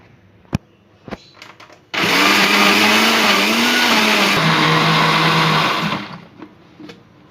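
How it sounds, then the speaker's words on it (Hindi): A loud blender whirs steadily for about four seconds blending pizza sauce with oregano, dipping briefly in pitch midway, then cuts off; a few faint clicks before and after. "इसको हम ब्लेंडर में ब्लेंड कर लेंगे।"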